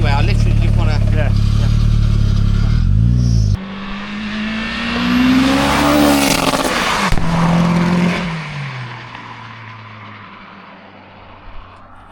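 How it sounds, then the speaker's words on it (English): A car fitted with a new turbo accelerates hard, engine note climbing and sweeping through revs with boost building, then easing off and fading as it passes; loud and close, with people talking at the start. "Looks like it's boosting alright."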